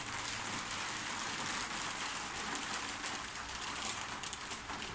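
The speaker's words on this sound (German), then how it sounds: "Einige haben sich ja gewünscht, dass ich heute Abend ein paar Regenimpressionen mache. Vielleicht hört man es im Hintergrund." Evening rain falls outside as a steady, even hiss that fills the whole stretch. It sounds close and constant, with no voices and no other clear sounds.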